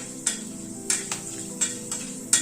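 Half a teaspoon of fenugreek seeds crackle in hot oil over a lowered gas flame for a bitter gourd dish, a steady close sizzle broken by several sharp pops and ticks, with no voices.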